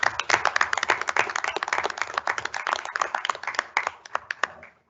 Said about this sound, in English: If we can just give our students a round of applause for joining us for their first meeting in a very long time